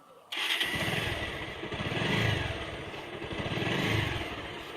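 A motorcycle engine catches on ignition and settles into a rough, clattering idle that swells slightly, loud and close, with no voices over it.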